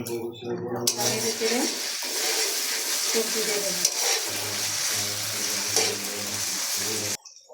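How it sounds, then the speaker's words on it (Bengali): Vegetables and leaves frying in a pan, a steady loud sizzle with stirring and occasional scrapes of a utensil against the pan throughout, with no voices. "একটু ভাজি হয়ে আসলে এখানে রক্ষির পাতা এগুলোকে দিয়ে কষাতে হবে"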